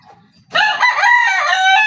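A rooster peering out crows once, loud and close, a single strained cock-a-doodle-doo lasting over a second after a brief quiet moment, with no talk over it.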